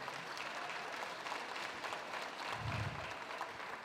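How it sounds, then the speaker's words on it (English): A crowd applauds steadily with dense, continuous clapping that holds at an even level throughout. "Let's give them a round of applause one more time"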